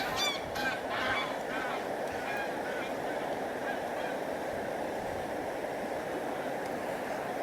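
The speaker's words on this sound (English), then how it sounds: "Oh, geese attack." Geese honk by a river, a few calls early on over a constant rushing of flowing water heard in the open.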